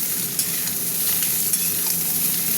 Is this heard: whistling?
no